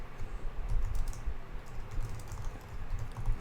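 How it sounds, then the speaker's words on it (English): Close, rapid typing on a computer keyboard, a dense stream of quiet clicking keystrokes with no talking. "I'm so bad at typing"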